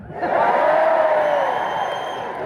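A live comedy show audience bursts into cheering and whooping. The loud crowd swell rises quickly, holds, then slowly fades, with one rising whoop standing out above the noise.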